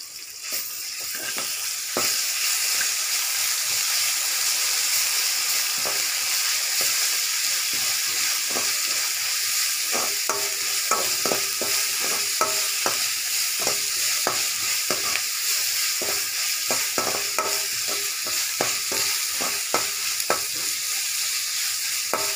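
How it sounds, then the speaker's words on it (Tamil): Small onions and ginger paste sautéing in a pan for a chicken liver fry, a loud, constant sizzle close by, punctuated by frequent scraping, clicking stirs that grow busier toward the end, with no talking. "பாருங்கள் வெங்காயம் நல்லா வதங்கிடுச்சு"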